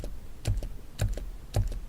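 Soft, muffled keystrokes on Gecko silent linear keyboard switches in three brief clusters, quiet and close, with no talking.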